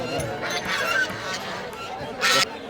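Domestic ducks calling at a crowded weekly livestock market in Golakandail, Narayanganj, Bangladesh: loud, nasal honking calls in several bursts, close by, over a busy market murmur.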